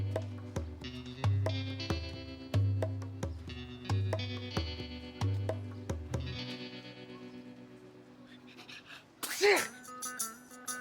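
A single loud sneeze bursts out near the end, after a stretch of rhythmic music with heavy bass pulses.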